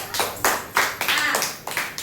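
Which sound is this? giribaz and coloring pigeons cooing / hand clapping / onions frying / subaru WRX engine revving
hand clapping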